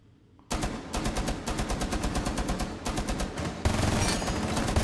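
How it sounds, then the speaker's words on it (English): Rapid automatic gunfire in a shooter video game, long bursts of fast repeated shots that fill most of the clip, loud and continuous after a brief quiet start, with no voices. "Hubert, start shooting."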